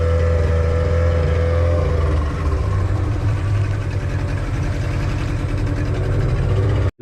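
Motor of a small boat near a houseboat on a fishing trip runs steadily at a low, throbbing idle, loud and close, with a slight shift in pitch midway before cutting off abruptly at the end.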